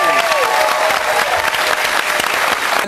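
A studio audience at the Spicks and Specs TV music quiz gives loud, dense applause to the band, with steady close clapping and a brief musical tail at the start.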